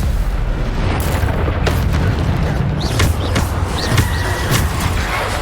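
Bombarda explosion spells in Hogwarts Legacy go off as a dense burst of loud booms and blasts over constant battle rumble, with several sharp whooshing pops layered in quick succession.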